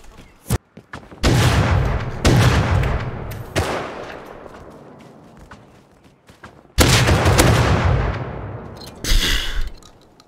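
Gunfire in the video game Rust: a sharp crack, then several loud close bursts of shots with echoing tails, a long decaying rumble, and another heavy volley near the end.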